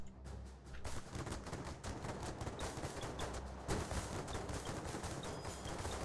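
Airship guns firing at dragons in the Airships: Conquer the Skies video game, rapid continuous volleys of shots layered over one another, fairly faint overall, with no pause.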